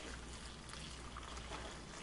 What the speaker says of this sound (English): So we'll just pour this in here